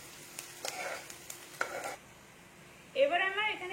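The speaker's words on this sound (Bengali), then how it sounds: "পেঁয়াজটাকে আমি একটু ভেজে নেবো একটু হালকা করে" Onions frying lightly in a pan for a paratha roll, with a soft sizzle broken by brief stirring scrapes and clinks of a utensil, then a louder burst of sizzling near the end; no one talks.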